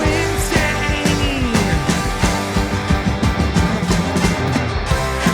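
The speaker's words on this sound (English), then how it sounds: "I jumped over to the punk style track." An unmastered punk rock track plays at full volume with big heavy distorted guitars, pounding drums and cymbals in a steady driving rhythm.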